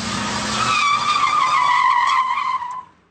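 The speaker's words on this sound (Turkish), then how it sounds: "Trafik akarken kavşaklarda drift atan da vardı, mahalle aralarında lastik yakan da." A car drifting at an Istanbul intersection lets out a loud, sustained tire screech for about three seconds with engine noise underneath, then cuts off abruptly.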